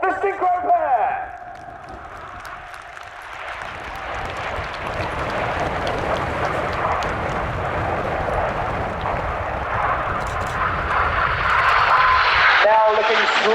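Red Arrows synchro pair jets roaring past at the Royal International Air Tattoo air show, a loud sustained broadband jet rumble swelling toward the end, with a commentator talking over it throughout.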